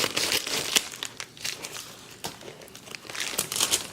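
Crinkling and tearing of packaging material as an Amazon package holding a gel nail polish starter kit is cut open, with repeated close rustles and crackles, no speech.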